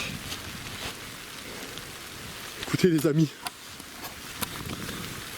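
Rain patters steadily outside an abandoned chapel, a soft close hiss of drops throughout, while someone speaks briefly midway.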